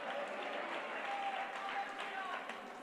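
A church congregation applauding during worship, a full, even wash of many hands clapping that fades slightly toward the end, with voices mixed in.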